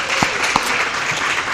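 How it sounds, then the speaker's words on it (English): Guests at a Port Towns legislative dinner give a round of applause, a steady wash of many hands clapping in a hall, with a couple of sharper nearby claps standing out. "Can we all give Mayor Barrows a nice round of applause"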